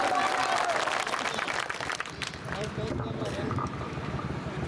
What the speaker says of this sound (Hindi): तालियों की गड़गड़ाहट से धन्यवाद अर्पित करो मोदी जी।